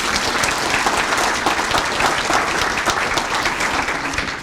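An audience at a chamber of commerce awards celebration claps vigorously, a full, even burst of applause lasting several seconds.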